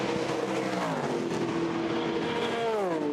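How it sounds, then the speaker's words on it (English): The number 67 Ford race car roars past at Le Mans, a loud, close engine note climbing through the gears and then dropping in pitch as it goes by, with other cars audible behind it. "This Ford's got a nice run on this,"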